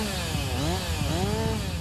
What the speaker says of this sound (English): we're going to fire up a chainsaw at a pretty healthy distance